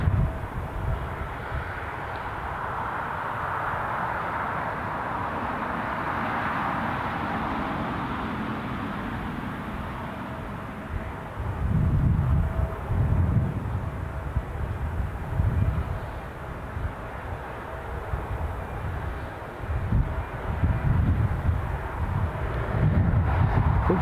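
A fixed-wing aircraft roars at Newcastle International Airport, a sustained broadband engine rumble heard from a distance, swelling and fluttering in the second half with some wind buffeting and no talk.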